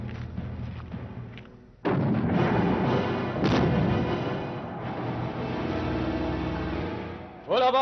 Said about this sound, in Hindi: गोलीबारी बंद कर दी जाए।